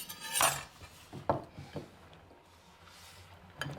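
Diced vegetables are tipped into a bowl, making a few clattering knocks against the bowl followed by quieter scraping taps in a home kitchen.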